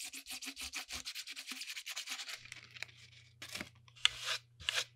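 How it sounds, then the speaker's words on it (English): Sandpaper rubbed by hand across a PVC or plastic pipe surface, heard as a quick run of rhythmic close scratching strokes, then slower, longer rasping passes under a steady low hum. "PVC, plastic, and poly pipes or containers, you can use sandpaper with anywhere between 60 and 400 grit."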